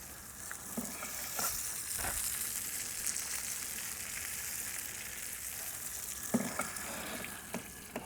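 Murray cod fillet sizzling and frying steadily in a hot pan over a pizza-oven flame, a continuous bright crackle with a few soft clinks of utensils, no talking.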